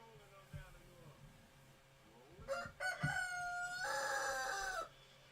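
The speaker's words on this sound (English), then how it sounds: "Just got this friggin' rooster sitting in my window" A rooster perched in a window crows outside, a loud drawn-out cock-a-doodle-doo preceded by a couple of short clucks, close to the microphone.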